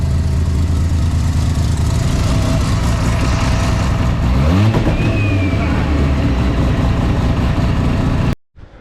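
A big-turbo Mazda RX-7 FD rotary engine revs up and falls back while the exhaust misfires and crackles, loud and close, then cuts off abruptly near the end.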